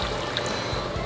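Vegetable broth is poured into a pan of meat and gobi fern being stir-fried, making a brief, soft, steady pouring rush with no voices.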